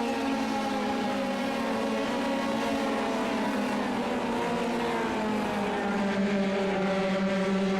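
Race cars in the iRacing game, engines droning loudly and steadily with rising and falling pitch as they accelerate out of corners, including one damaged car.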